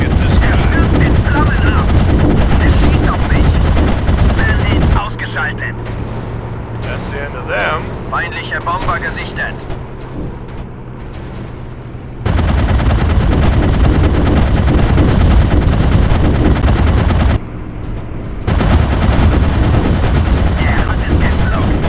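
Sustained, loud machine gun fire from a World War I warplane in the Warplanes WW1 Sky Aces video game, in long continuous bursts with short pauses between them, alongside game voices.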